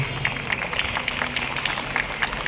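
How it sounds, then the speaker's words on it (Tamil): Audience applause at a school annual day event, a steady patter of many hands clapping at moderate distance, continuing throughout with faint crowd murmur. "கைதட்டுவர்களுக்கெல்லாம் நன்றி"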